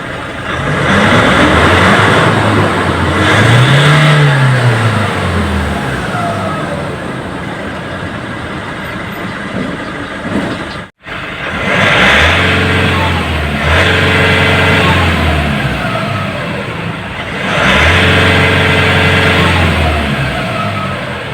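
A Nissan NP300 pickup's diesel engine, stuck in safe mode, revs up and falls back several times, loud and close, with a brief cut partway through.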